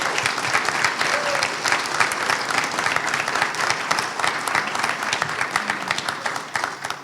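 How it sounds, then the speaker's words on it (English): A room of attendees at an arts and culture summit in Atlantic City applauding faculty and staff, a loud, sustained wall of many hands clapping that holds steady before easing off at the end. "I do want to take a moment to give them a round of applause"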